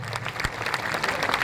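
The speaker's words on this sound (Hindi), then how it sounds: "ताली, जोर से ताली बजाइए।" Crowd applause at a political party event in Bihar welcoming a newly named party president: a continuous patter of many hands clapping, fairly even and moderately loud, with no speech on top.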